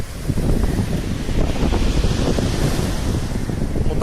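Sea waves roll and wash onto a Sochi beach on the Black Sea, a loud, continuous surf roar mixed with wind buffeting the microphone, with no voices.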